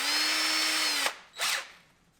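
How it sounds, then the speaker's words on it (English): A power drill with a 1/8-inch bit drills screw holes in a Hobie PA14 kayak guardian plate: one sustained high whine about a second long, a short pause, then a second brief burst, close and loud with no talk. "we are going to be drilling out these holes"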